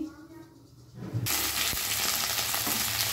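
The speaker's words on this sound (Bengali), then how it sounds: "সরষের তেল गरम करे निয়ে आलू और कपिগুলো आमी भेजे निচ্ছি।" Potatoes and cauliflower drop into hot mustard oil and burst into a loud, steady sizzle that continues to the end, after a quieter stretch of low kitchen noise.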